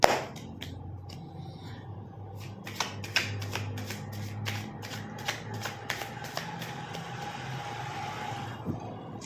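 Tarot cards shuffled by hand in a series of crisp riffling bursts and flicks, close and clear over a steady low background hum, with no talking.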